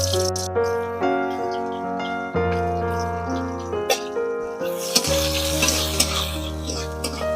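Chopped onions drop into hot oil already tempered with a dry red chili and black cumin seeds, sizzling steadily up close with light stirring clinks and scrapes, no talking.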